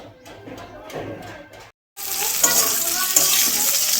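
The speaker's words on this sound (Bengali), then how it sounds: "এবার খিচুড়ির জন্য ফুলকপি আর আলুগুলোকে ভেজে নেব" Cauliflower and potatoes fry in hot oil. Quiet handling noises give way to a brief silence, then a sudden loud, sustained sizzle that carries on close by.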